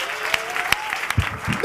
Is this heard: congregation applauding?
yes